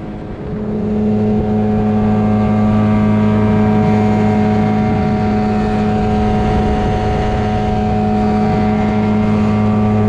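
A two-stroke outboard engine running on a lake, a loud, steady buzzing drone that swells up in the first second and then holds at an even pitch close by, with no talking.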